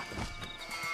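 Horse hooves clip-clopping in the Western video game Red Dead Redemption, a short run of soft, irregular hoofbeats set against a steady background of game ambience.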